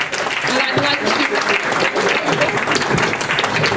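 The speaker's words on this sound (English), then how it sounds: "Let's give everyone a big round of applause." A forum audience applauds in a sustained, dense wash of clapping that stays loud and even throughout, heard from within the room with no talk over it.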